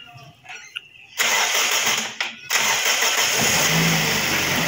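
A Toyota Vios car engine cranks briefly after some quiet background sound, catches and settles into a steady, smooth idle that continues loud and close.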